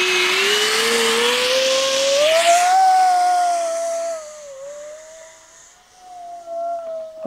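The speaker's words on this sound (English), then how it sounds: "First flyby." A small high-speed FPV RC plane screams past, its whining motor tone rising in pitch then dropping and fading as it passes, loud and close before trailing off into the distance.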